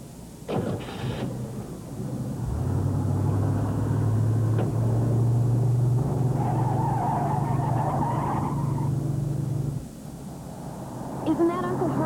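A car revs and pulls away with tires skidding, its engine droning steadily for several seconds before fading, with brief voices near the start and end.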